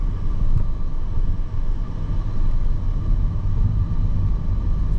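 A 2023 Nissan Kicks VL e-POWER accelerating, with a steady low rumble and road noise heard from inside the cabin as a loud, even drone with no talking.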